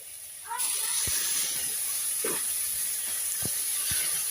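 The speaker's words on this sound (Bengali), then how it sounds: "এখন আমি এটাতে জল ঢেলে দেব" Water poured into a hot pan of fried spice paste for chitol fish curry with potatoes bursts into a loud, steady hiss that starts abruptly and keeps sizzling, with a few faint clinks underneath.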